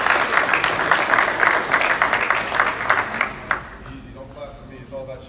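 A crowd applauds as a new high school head football coach is introduced, dense clapping filling the room for several seconds before tapering off, with a voice starting to talk over the fading claps.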